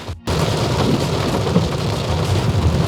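A heavy hailstorm hammering down outdoors in a wooded Portland-area suburb, a loud, dense roar of ice striking surfaces that cuts in after a brief quiet moment and holds steady to the end.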